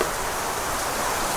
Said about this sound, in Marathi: बाहेर भरपूर पाऊस पडायला लागलाय.